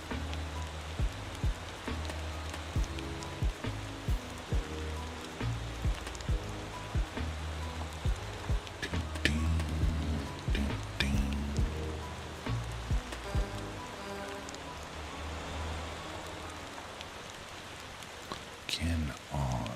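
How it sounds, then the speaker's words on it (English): Rain falls in the Motor Town driving game, a continuous soft patter on surfaces with scattered sharper drop hits, set under a vehicle's low engine drone, with speech here and there. "The rain sound is pretty"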